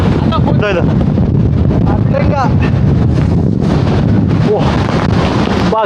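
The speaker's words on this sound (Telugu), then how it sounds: "సముద్రం మధ్యలో తుఫాన్లో ఇరుక్కుపోయా" Strong storm wind at sea roars and buffets the microphone continuously aboard a boat off Lakshadweep, with faint voices underneath the rushing gusts.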